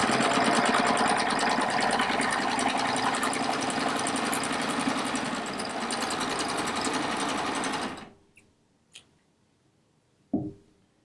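A sewing machine quilts a diagonal line across a rag quilt block with a fast, steady, loud whirring stitch for about eight seconds, then stops, followed by a few faint clicks and handling knocks.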